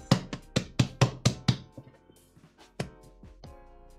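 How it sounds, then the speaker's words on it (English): Brioche burger bun dough is slammed and knocked down on a table, a run of about eight quick dull thumps followed by softer scattered taps, close and clear without talk. "then just gently take it out of the bowl, onto the table, and then we're gonna knock the air out of it"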